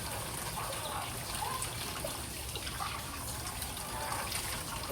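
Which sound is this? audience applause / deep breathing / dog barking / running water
running water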